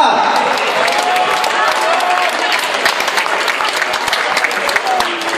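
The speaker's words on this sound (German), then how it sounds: "Applaus für den SAK!" Hall crowd at a youth U11 football tournament in Ferlach applauding the SAK team, dense sustained clapping with crowd noise and speech over it.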